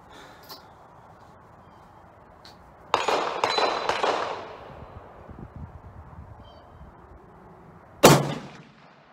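Ruger American Go Wild rifle in .300 Win Mag fires outdoors, a loud booming crack with a rolling echo trailing off over a couple of seconds, followed later by a second sharp, loud report.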